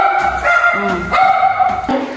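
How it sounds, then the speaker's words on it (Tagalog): A dog barks and yelps loudly nearby in a short excited burst, with tonal whining cries mixed in. "Yan yung aso nila, guys. Maingay."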